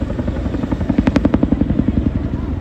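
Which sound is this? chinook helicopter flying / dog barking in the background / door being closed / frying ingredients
chinook helicopter flying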